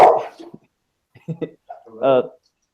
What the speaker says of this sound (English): I told you I have dogs.